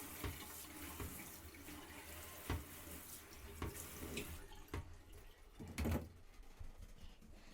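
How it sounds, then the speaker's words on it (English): Running water rinses out a bathroom during cleaning, a steady faint splashing flow with a few sharper knocks and spatters scattered throughout, without talk. "I rinse out the bathroom just because there were some bubbles in there and some dirt."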